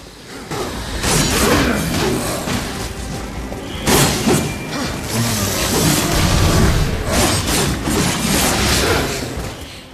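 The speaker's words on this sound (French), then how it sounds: "c'est des gros kamikazes là qui s'explosent tout ça" Kamikaze enemies blowing themselves up in the Darksiders video game, a dense run of loud booming explosions and thuds layered over constant game noise, with sharp bursts near the start, around four seconds and again mid-clip.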